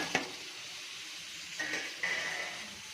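Spleen sautéing in a pan, a steady close sizzle with a few sharp stirring scrapes and hisses breaking through at intervals.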